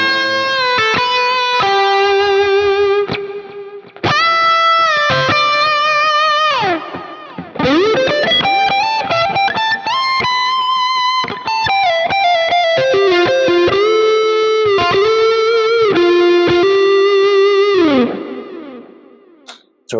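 A thick, high-gain electric guitar lead tone, driven by an overdrive pedal into a Quad Cortex lead channel, plays a loud, sustained melodic phrase of held bends and quick runs with echo and chorus-like shimmer, with no talking.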